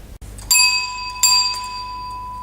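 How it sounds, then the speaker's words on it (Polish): A crane's warning bell, shown at an energy museum, rings twice in quick succession, with bright metallic strikes that ring on and fade slowly. It is close and clear, and no voices are heard. "Dzwonek, który robią na kranie."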